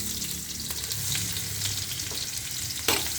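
Ginger, garlic and onion frying in a pan give off a steady, close sizzle with soft stirring scrapes and a brief sharp clatter near the end. There is no talk.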